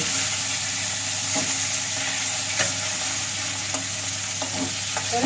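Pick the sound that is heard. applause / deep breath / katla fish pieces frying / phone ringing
katla fish pieces frying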